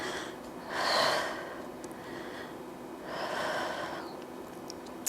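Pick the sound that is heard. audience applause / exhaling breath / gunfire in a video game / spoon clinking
exhaling breath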